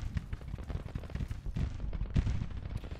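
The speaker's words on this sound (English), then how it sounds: "My artillery is launching their shells into the Union flank there" Confederate artillery fires shells into the Union flank in the Civil War strategy game Grand Tactician, giving a dense, continuous roll of booming reports and crackling gunfire from a distance.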